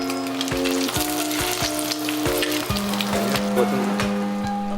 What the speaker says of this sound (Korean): 두툼하게 포를 뜬 참돔살은 계란옷을 입혀 전으로 부쳐주는데요